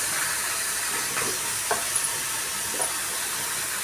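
Green chillies fry in hot oil with a steady, close sizzling hiss and a few soft crackles and stirring bumps, and no voices.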